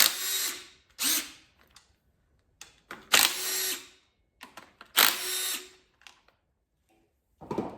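Bursts of a power tool spinning out Torx bolts on an Audi VW 2.0T oil pump during an engine teardown, several loud whirring runs of a second or so separated by pauses and small clinks.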